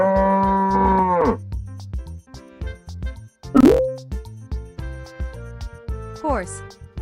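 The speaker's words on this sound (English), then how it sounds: "Cow." A cow moos several times, with a long low moo at the start and more lowing later, set against playful background music with plucked and dripping sound effects.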